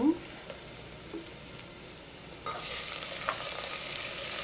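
Beans tipped into a pan with garlic, followed by a soft steady sizzle and scraping stirs, fairly quiet with a brighter burst of frying about halfway through.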